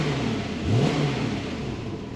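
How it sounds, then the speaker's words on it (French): A Porsche 911 991.2 GTS flat-six revs with the exhaust valve closed, giving a muffled, fairly subdued rise and fall in engine pitch near the middle against a steady running hum. "faire écouter la sonorité avec, là on est échappement clapet fermé"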